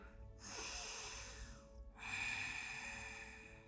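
A deep yoga inhale drawn in through the nose, two long breaths close to the microphone, each rising and holding steady with a soft airy hiss, separated by a short pause.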